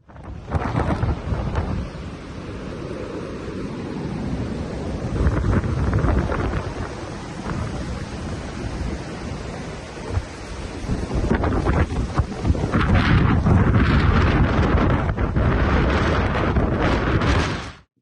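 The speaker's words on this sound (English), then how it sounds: "This is how windy it was." Strong, gusting wind in a mountain valley roars and buffets the microphone for the whole stretch, with heavier rumbling blasts surging in waves and no voices.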